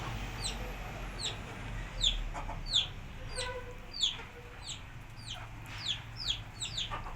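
Desi hens clucking in soft, scattered bursts, with short chirpy calls repeating irregularly over a low background hum; no one speaks.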